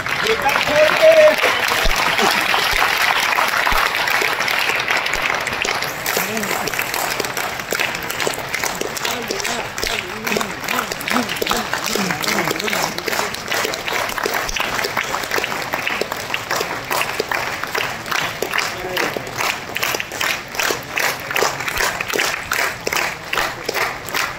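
A hall of young recruits at a joining-letter ceremony breaks into loud, sustained applause, dense clapping that swells and continues steadily for a long stretch.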